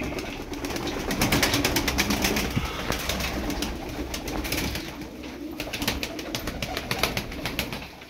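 Tumbler pigeons coo in a dusty loft, low throaty calls running under a busy clatter of wingbeats and scratchy rustling, loud and close throughout with irregular bursts of sharp clicking.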